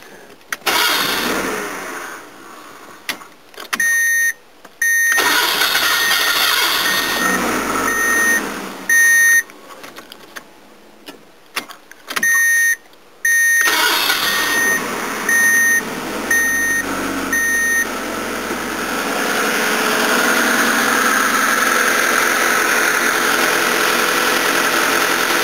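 A 1999 Ford's engine cranking and trying to start after a hose and water pump repair. Rhythmic starter churning comes in bursts with pauses and dashboard beeps, then the engine settles into a steady idle.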